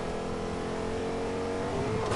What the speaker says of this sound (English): Find you first, run you over in the truck.